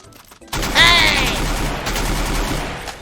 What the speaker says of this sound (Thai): เขายิงใครวะ